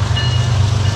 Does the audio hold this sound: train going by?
yes